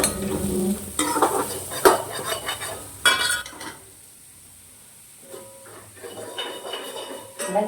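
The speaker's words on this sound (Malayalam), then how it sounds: "ഇതങ്ങോട്ട് വഴറ്റാൻ കുറച്ച് നേരം ഇട്ടേക്കണം." Ingredients for chena theeyal, a yam dish, sauté in a pan as a spoon scrapes and clinks against the metal in bursts, with a low sizzle between stirs and a quiet pause midway.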